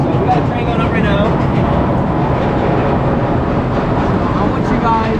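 The Griffon roller coaster train at Busch Gardens Williamsburg climbs its chain lift hill, a dense steady rattling and mechanical rumble heard at moderate distance, with faint voices mixed in.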